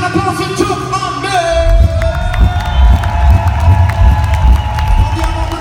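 A large concert crowd at Sporthalle Hamburg cheers and claps loudly, with whoops and shouts rising over a steady roar of applause.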